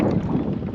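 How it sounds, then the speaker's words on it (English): Strong wind blows across a lake around a Hobie Lynx kayak, a steady, close, roaring rush of wind noise with no talk. "It is really windy."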